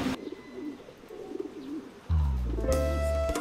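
Pigeons coo at a large pigeon farm in Vietnam, a low wavering cooing murmur running through, then a louder, steadier hum and tone join midway, with no talk over it.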